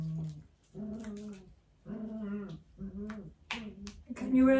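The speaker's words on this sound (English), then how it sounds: "Can you hear the dogs, guys?" Dogs at home whine and yip in a series of drawn-out, moaning vocal bursts, fairly close, with a few sharp clicks between them.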